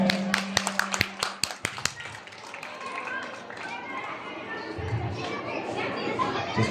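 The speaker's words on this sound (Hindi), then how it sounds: "एक बार जोरदार तालियां इनके लिए हो जाए।" At a school anniversary celebration in an auditorium, a handful of sharp, separate claps ring out over the first two seconds, then give way to a murmur of crowd chatter and children's voices.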